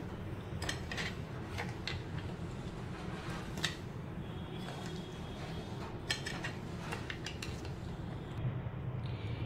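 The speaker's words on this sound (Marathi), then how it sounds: "आपल्या लिंबाचा रस आणि साखर याचं मिश्रण आता आपण चांगलं हलवून घेणार आहोत" A spoon stirs a lemon juice and sugar mixture in a steel vessel, making continuous close scraping and clinking against the metal with irregular sharper taps, no voices.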